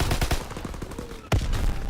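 Rapid automatic gunfire from the Call of Duty WW2 video game, a loud steady stream of close shots with a sharp burst near the end.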